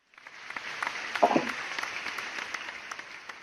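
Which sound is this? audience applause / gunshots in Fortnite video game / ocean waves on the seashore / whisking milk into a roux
audience applause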